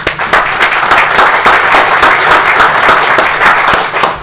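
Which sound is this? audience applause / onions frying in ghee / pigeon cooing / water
audience applause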